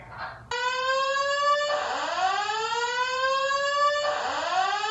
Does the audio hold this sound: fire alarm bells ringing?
yes